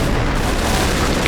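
Heavy, rumbling explosion from a Panzerfaust rocket striking a tank in the Men of War battlefield game, a dense booming blast filling the soundscape over continuous battle noise.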